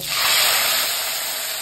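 Prawns frying in about three tablespoons of hot oil in a pan, a steady broad hiss and spatter that swells early and holds loud and close throughout, with no voices.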